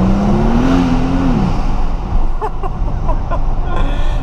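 A Mercedes-AMG SL65 Black Series engine drones loudly nearby, its pitch rising then dropping off, followed by a rapid chattering flutter from the blow-off valve.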